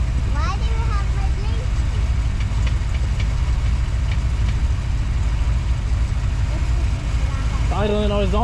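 A barn-find Ford Fox Body Mustang engine idles with a continuous low rumble throughout, loud and near, while a voice speaks briefly over it at the start and end.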